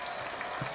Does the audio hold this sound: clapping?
yes